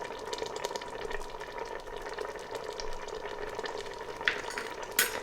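Turmeric and coriander powder frying in a pan for daal tarka, a steady close sizzle with a couple of sharper pops and scrapes near the end.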